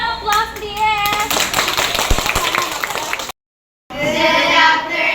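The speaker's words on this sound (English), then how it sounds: "Round of applause, please." Classroom applause from students, loud and close, mixed with a voice and chatter before a brief gap of silence, then continuing noise.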